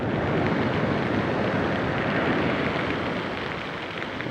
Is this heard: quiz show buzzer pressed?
no